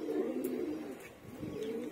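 Young Giribaz pigeons coo softly at close range, with low, throaty rolling calls repeating over a quiet background.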